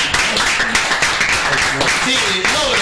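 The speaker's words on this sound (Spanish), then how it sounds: "También tenemos a los nuevos voluntarios de cultura, un aplauso para que." Clapping and applause from an audience at a year-end closing gathering of the radio group La H que Suena, greeting the new culture volunteers, with voices talking and calling out over the steady claps.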